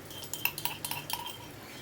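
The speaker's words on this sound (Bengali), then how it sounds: "ছোটো হামাল দিস্তা থেকে সম্পূর্ণ মশলাটা আমি দিয়ে দিচ্ছি" Crushed spice paste is scraped from a small mortar into a pan, giving a quick series of light metallic clinks and taps, close and faint, with no talk.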